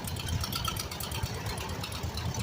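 A 1944 Massey-Harris Model 101 Junior antique tractor runs at an outdoor tractor show in West Branch, Michigan, giving a steady, moderately loud engine rumble with a faint knocking texture, heard alone.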